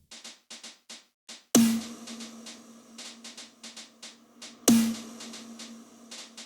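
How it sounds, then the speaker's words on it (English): A quick run of soft ghost-note taps, then two loud processed snare hits with long reverberant tails, light taps continuing underneath. "So with the snare, it sounds like this."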